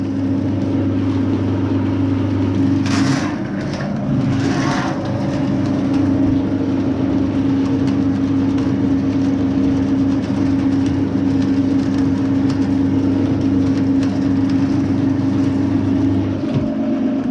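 Drain cleaning machine working on an 8-metre pipe running from a kitchen sink and bathtub: a steady, loud mechanical drone with rattling, grinding motor noise that runs unbroken throughout, with a brief higher whine near the start.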